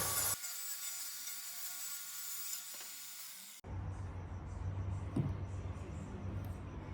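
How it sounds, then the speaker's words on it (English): Wood being trimmed down for a small DIY build, a high whining rotary tool grinding steadily before a sudden switch to quieter scraping and cutting noises close by. "so now we're just trimming that down a little bit too"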